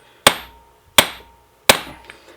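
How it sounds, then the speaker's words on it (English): Three sharp metallic hammer taps, evenly spaced and close, seat a bearing during reassembly of a manual transmission, each strike ringing briefly before fading, with no talk. "Let's just give that a little tap. Make sure everything is seated."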